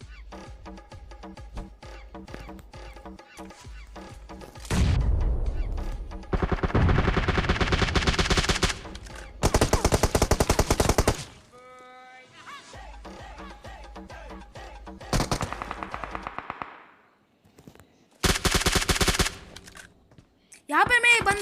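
Gunfire in the video game PUBG Mobile while killing an enemy: repeated bursts of rapid automatic shots and single loud cracks, with short gaps between volleys over game sounds.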